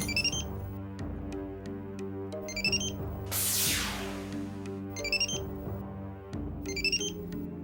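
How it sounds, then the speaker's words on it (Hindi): A mobile phone ringtone, muffled inside a purse, chimes in repeated short bursts over a sustained musical background, with a bright swooshing sweep in the middle. "मोबाइल की आवाज तुम्हारे पर्स में से आ रही है।"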